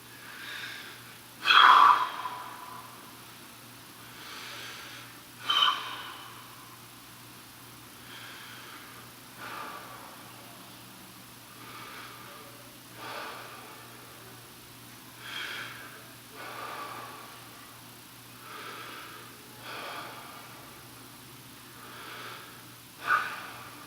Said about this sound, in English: just want you to take some deep breaths for me and just keep breathing kind of deeply